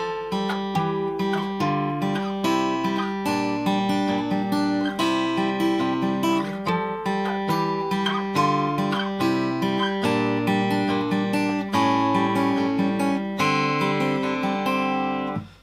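Acoustic guitar playing the chorus of a song, a steady stream of fingerpicked notes and double stops, close and clear without any talking.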